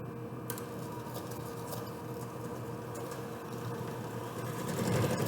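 A hand mixer creams chocolate chip cookie dough in a bowl with a steady, close whirring drone that holds even throughout and swells slightly louder near the end.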